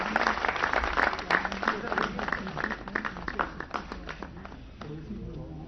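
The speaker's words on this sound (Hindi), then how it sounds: "जोरदार तालियां" An audience at a Panchayati Raj parliamentary outreach event applauds during a memento presentation, with dense, steady clapping that slowly thins out and a voice over the PA system underneath.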